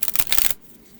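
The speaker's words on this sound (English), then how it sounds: "if you can shuffle the regular size tarot cards, you should be okay" A deck of Oracle of Oddities oracle cards, larger than standard tarot size and on thick cardstock, is riffled briskly in a dense, close burst of papery flicking for about half a second before it stops.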